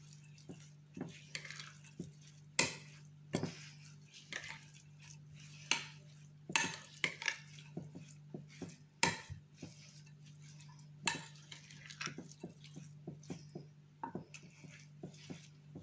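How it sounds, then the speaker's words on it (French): Couscous is stirred and mixed in a dish, with irregular light clinks and scrapes of a utensil against the dish, close and fairly quiet over a low steady hum. "On mélange bien."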